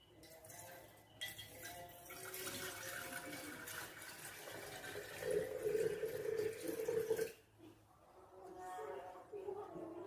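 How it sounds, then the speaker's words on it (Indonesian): Water pours steadily into a jar for a photosynthesis demonstration, a continuous gurgling rush that stops abruptly, faint and slightly distant. "Lalu tuangkan air ke dalam toples sebanyak 3/4 bagian."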